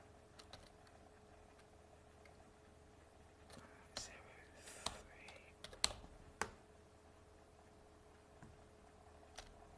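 Sparse, quiet keystrokes and clicks from a computer keyboard, with a few sharper taps in the middle, under soft, whispery speech.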